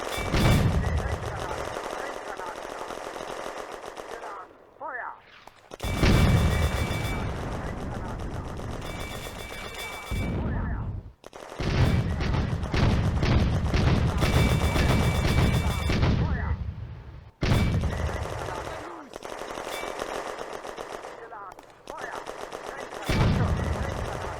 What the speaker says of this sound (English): The 6 Panzers on the ridge are giving a firepower demonstration